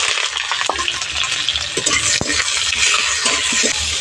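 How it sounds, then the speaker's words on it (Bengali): Chopped onion fries loudly in hot oil with dried red chillies and whole cumin, a bright, constant sizzle broken by the scrape and clink of a spoon stirring against the pan. "পেঁয়াজটা ভালো করে ভেজে নেব।"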